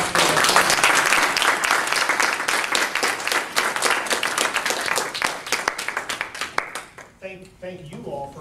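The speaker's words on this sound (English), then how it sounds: "Round of applause for" Audience at a district candidate forum bursts into loud, dense applause that gradually thins and fades over about seven seconds, ending with a voice speaking alone.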